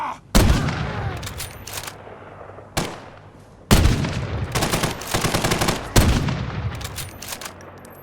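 Gunshots in Fallout 4: several sharp, loud reports spaced a second or two apart, some followed by rapid rattling bursts, each with a booming low tail that rings out between shots.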